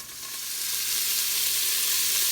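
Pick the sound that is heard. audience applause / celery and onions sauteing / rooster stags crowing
celery and onions sauteing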